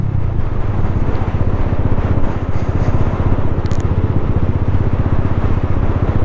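A 2024 Freedom Fighter 200 EFI motorcycle engine drones continuously under a steady throttle while riding, its loud, throbbing low rumble mixed with wind noise and no talk.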